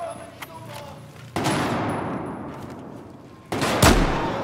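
Two sharp gunshot blasts in the video game Battlefield 4, one about a third of the way in and another near the end, each trailing a rough noisy decay, with faint background ambience between.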